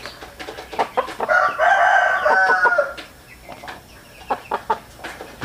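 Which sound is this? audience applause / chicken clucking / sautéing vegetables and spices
chicken clucking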